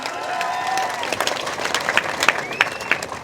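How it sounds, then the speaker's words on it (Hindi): Political rally crowd breaking into loud applause, dense clapping with scattered sharp claps and cheers, a voice's pitched calls faintly over the start of the clapping. "जोरदार तालियां बजाइए।"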